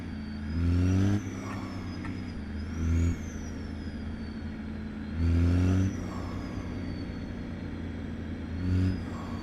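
A Kenworth W900 truck engine in American Truck Simulator drones steadily while driving, with several revving surges as it accelerates through the gears, heard alone with no talk.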